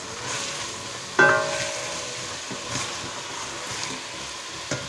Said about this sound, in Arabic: وهنايا ضفت الشلغم اللفت